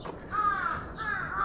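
Several crows caw in Osaka, repeated harsh calls rising and falling across the moment, fairly close and clear over a steady city background with no talking.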